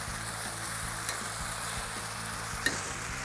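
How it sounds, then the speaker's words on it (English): Chicken gravy sizzling and frying in a hot pan with wild turkey and strawberries, a steady close hiss with a couple of faint clinks of a utensil, no talking. "Wow, what a nice sizzle we have here."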